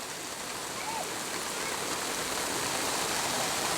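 Dense, steady rain hisses evenly throughout, a continuous wash of drops with no pauses, fairly close.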